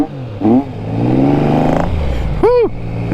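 A car with its throttle worked by a boot lace pulls out and accelerates, engine rising in revs with a gear change partway and a brief rev blip near the end, close and loud.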